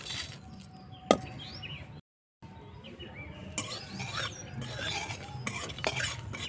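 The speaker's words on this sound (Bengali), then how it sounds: "মশলাগুলোকে ভেজে নেব" Coriander, cumin, fennel, black cumin, mace, dried chilies and bay leaves dry-roasting in a pan, with scraping stirs and a sharp clink of a utensil against metal, briefly interrupted by a short gap.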